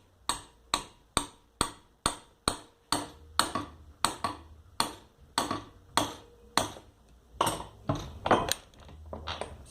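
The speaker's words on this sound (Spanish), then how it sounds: "y lo ajusto bien con el martillo." Sharp hammer taps ring out on a bicycle coaster brake, tightening the locknut and cone held in a vise: about twenty close, evenly spaced metallic strikes, loud and near, with no voices.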